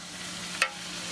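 Liquid nitrogen boils with a steady low hiss as spiders are plunged into it, and a short, sharper sputter bursts out midway before the hiss settles back.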